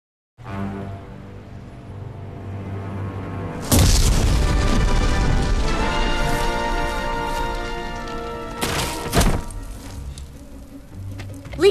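A factory explosion in The Simpsons Game erupts with a loud boom after a quieter stretch, then roars on as a long rumbling, crackling blast, with further sharp bursts near the end.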